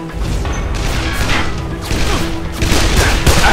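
Rapid, dense bursts of gunfire from the video game Call of Juarez: The Cartel, loud and close, with heavy booms and crashes layered over a steady roar of combat noise throughout.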